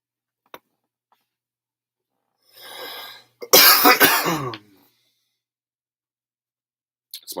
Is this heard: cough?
yes